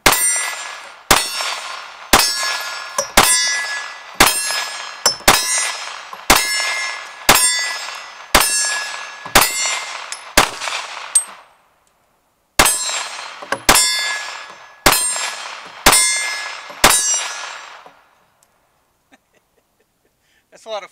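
Glock 45 pistol fired at two-thirds size steel targets from 20 yards, a steady string of sharp shots each followed by a ringing metallic clang, about a dozen evenly spaced, a pause, then five more, loud and close.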